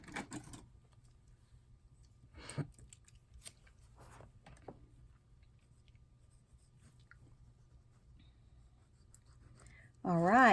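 A pencil scratches across paper while a book is altered for a collage: a few brief, faint scribbles in a quiet room, ending with a sudden louder rustle.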